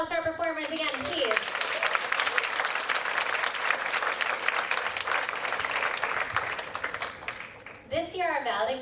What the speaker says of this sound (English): Rounds of applause for our performers again, please